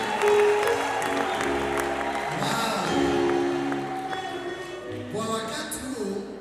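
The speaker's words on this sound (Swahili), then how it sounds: "Tuwashapie makofi." Applause at a church wedding, a crowd clapping under music with sustained instrumental and vocal tones, steady and fairly loud, easing slightly toward the end before picking up again.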